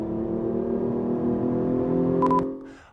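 A Hyundai Genesis Coupe's 3.8-liter V6 with an intake noise generator, a smooth rising engine drone up close, punctuated near the end by a pair of short electronic beeps before the sound fades.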